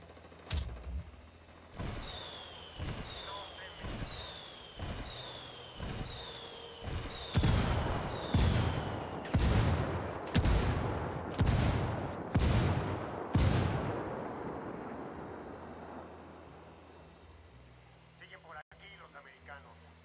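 Rifle fire in the Ghost Recon Wildlands video game, about a dozen loud, evenly spaced shots booming close, each leaving a ringing tail, then fading into ambience.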